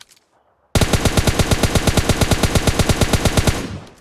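Sustained automatic rifle fire from the mobile shooter PUBG Mobile Lite: a loud, rapid, evenly spaced burst of roughly two dozen shots that starts abruptly after a short silence and runs for nearly three seconds before fading.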